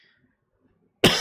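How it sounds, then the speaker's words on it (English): A single sharp, loud cough bursts out after near silence at the end of a spoken discussion, close to the microphone. "Excuse me, I'm still coughing."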